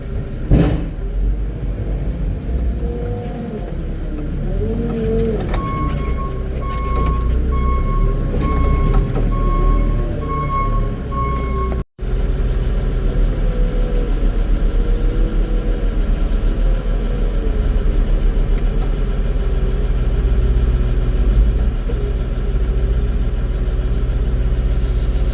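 Feed mixer wagon engine running steadily while mixing barley on a farm, a loud, continuous low rumble with a brief whine partway through, close and with no talk.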